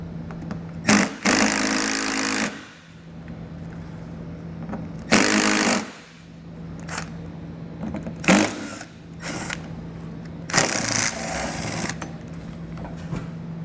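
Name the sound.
power driver removing bumper fasteners with a Torx bit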